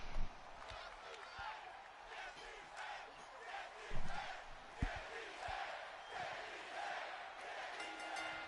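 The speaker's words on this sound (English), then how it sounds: "I can't tell what the crowd is saying." Crowd chanting in a WWE 2K wrestling video game arena, a faint, rhythmic mass of voices with scattered thumps and swells, heard from a distance and quiet throughout.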